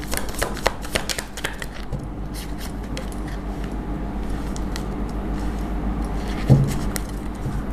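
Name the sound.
tarot cards being shuffled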